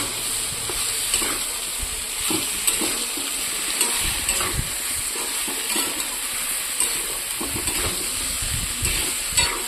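Vegetables fry and get stirred by hand in a heavy kadai, a constant loud sizzle broken by repeated scraping and stirring knocks at an uneven rhythm, with no talking.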